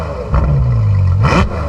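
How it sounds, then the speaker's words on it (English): A Ferrari F12 Berlinetta, a 2012–2017 front-mid-engined car, gives a short stationary throttle blip: an idle with a steady low drone, then a sharp, loud rev that rises and falls in a brief exhaust roar. "Today we're driving the Ferrari F12 Berlinetta, and we have somebody that wants to film the exhaust, so I'm going to rev it just a little bit."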